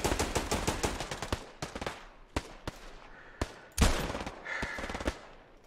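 Machine-gun fire in the WW2 shooter Hell Let Loose: rapid sharp bursts at the start, then spaced single cracks and short volleys, moderately distant, with no talking.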